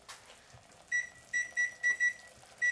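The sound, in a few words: kitchen timer being set, beeping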